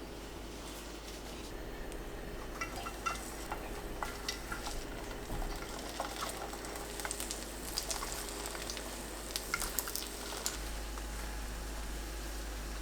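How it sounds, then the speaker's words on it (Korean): Egg-coated Korean jeon pancakes frying slowly over low heat in an oiled pan, a soft steady crackle with scattered faint pops and ticks, quiet and continuous with no talking. "계란 입혀서 약불로 천천히 구워주세요"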